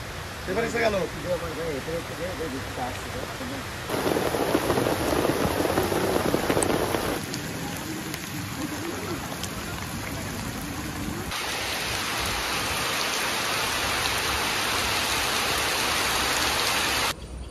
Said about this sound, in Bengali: আসছে দেখুন বৃষ্টিটা।